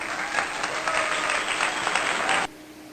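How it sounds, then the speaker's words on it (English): Steady applause from a class of students fills a classroom for a few seconds, dense and even, then stops abruptly. "You all deserve a clap."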